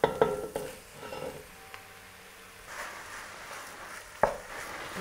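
Ground beef and sausage meat frying in a pan and stirred with a wooden spoon, a faint soft sizzle under scattered scraping and clinking stir sounds close by, no talk.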